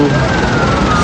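An ambulance siren wails steadily and loudly at a highway crash site on the Jakarta–Cikampek toll road, filling the entire short moment with no pause.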